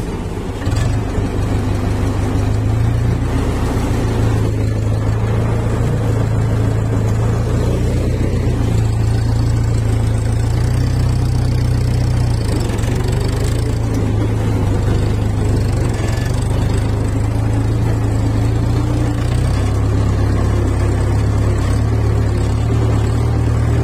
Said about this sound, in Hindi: तो अभी चलो ट्रैक्टर लेते हैं और